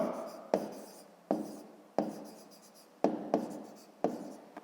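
A pen writes by hand on paper in short scratchy strokes, about seven sharp onsets each trailing off, close and quiet with no talking.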